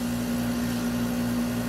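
A vacuum pump evacuates an acrylic vacuum chamber, a steady close mechanical hum with a strong constant tone and no variation.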